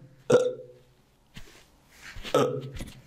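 A voice imitates hiccups during a Turkish language lesson, giving two close, sharp gulping hiccup sounds about two seconds apart with a faint breathy catch between them.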